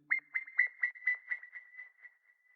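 Tiny squeaky synth tone repeated through a delay, a bright high note pulsing in a quick rhythm of echoes that gradually fade away, clear and isolated.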